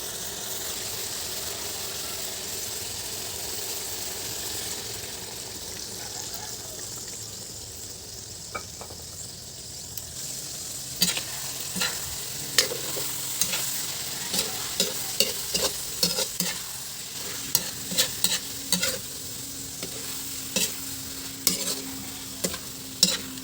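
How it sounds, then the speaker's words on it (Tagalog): Sliced bitter gourd (ampalaya) and egg fry in a pan with a soft, steady sizzle. A spatula scrapes and taps the pan in quick, irregular clicks that grow busier toward the end, heard close up with no talking. "Iluto na po natin ang ating ampalaya. Haluan na po natin ng itlog."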